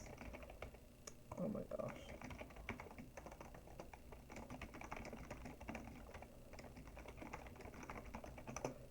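Fast typing on a computer keyboard, a dense run of light clicks going on steadily, with a voice briefly speaking over it.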